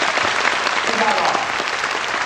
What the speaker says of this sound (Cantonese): 想借你嘅掌聲